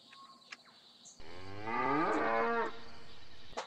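A cow moos once in a video game, a single loud, drawn-out low call heard close by over a quiet ambient background, with no talking.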